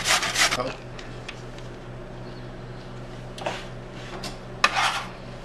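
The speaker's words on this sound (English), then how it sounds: "Box grater. We're just going to shred the carrot." A carrot is rubbed down a metal box grater in a kitchen, giving a few quick rasping scrapes, a burst at the start and more strokes near the end, with quiet pauses between.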